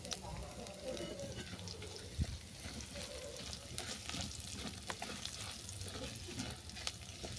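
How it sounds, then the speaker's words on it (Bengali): Ginger and asafoetida sizzle steadily in hot oil for a stuffed puri filling, a dense continuous frying hiss with a few sharp pops and spoon knocks, close by and even in level throughout. "আদাটা ভালো করে ভেজে নেওয়ার পর দিলাম হিং"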